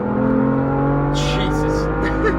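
A BMW M3 accelerating hard, its engine giving a loud, steady, rising drone close by, while a voice briefly breaks in partway through.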